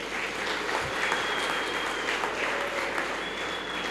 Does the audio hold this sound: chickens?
no